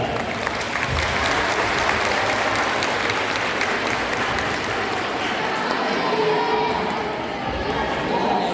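A school audience at a Turkish folk song competition final applauds the 7C class teachers, steady dense clapping filling the hall at a moderate level throughout, with an announcer's voice faintly over it.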